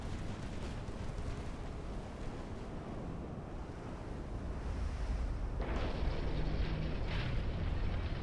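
Heavy naval guns fire in Ultimate Admiral: Dreadnoughts. Deep, rumbling blasts roll over a constant roar of sea and wind, and a sharper surge of booming comes near the end.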